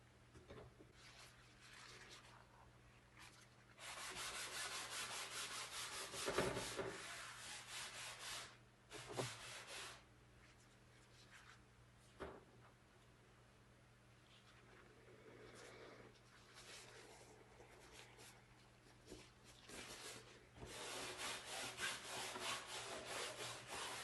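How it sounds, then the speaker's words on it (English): Oil paint being rubbed into a toned canvas underpainting, a soft brushy scrubbing that comes in long sustained passes with brief pauses between strokes, close and fairly quiet throughout. "So I rub it in and then I wipe it out again."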